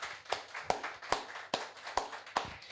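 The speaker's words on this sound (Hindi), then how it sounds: "सब लोग तालियां बजाएंगे।" Small classroom audience claps in a steady, fairly slow rhythm, about eight distinct claps, faint and close.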